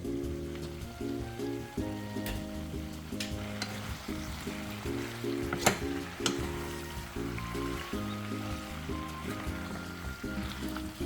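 Jamaican curry chicken pieces cooking in a covered pot, giving a steady, continuous sizzle that runs beneath background music with no talking.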